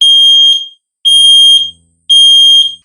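A ZEN smoke alarm sounding while its test button is pressed, three loud, piercing high beeps of about half a second each, evenly spaced with short silences between, very close.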